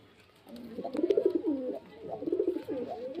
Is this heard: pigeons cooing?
yes